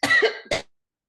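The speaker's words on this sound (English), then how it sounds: "it never fails that I cough like that too" A single close, harsh cough in two quick bursts, followed by silence.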